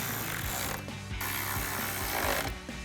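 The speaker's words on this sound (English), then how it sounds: "We're gonna grab a ratchet and tighten those down." A hand ratchet tightening the 10mm headlight bolts on a 2021-2023 Ford F-150, close and loud clicking in quick bursts with short pauses between swings, no talking.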